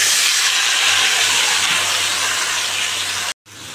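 Vegetables dropped into a hot pan with dried red chillies, giving a loud, dense, continuous sizzling hiss close up that cuts off abruptly near the end, then briefly resumes. No talking.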